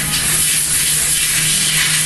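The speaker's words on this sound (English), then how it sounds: "go ahead and spray the air generously in there to get all the dust out" Can of compressed air spraying out dust, a loud, steady, close hiss of rushing air that holds constant throughout with no break.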